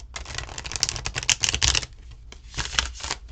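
Tarot cards being riffle shuffled, a dense flurry of crisp rapid flicks and clatter in two bursts with a brief pause between, close and fairly loud, no talking.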